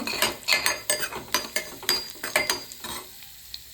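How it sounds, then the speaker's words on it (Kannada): Mustard seeds, cumin and chana dal being stirred in a hot pan, a quick series of sharp metallic spoon scrapes against the pan over a light sizzle of frying, close and fairly loud, fading out at the end. "ಈ ರೀತಿ ಮಿಕ್ಸ್ ಮಾಡ್ತೇವೆ"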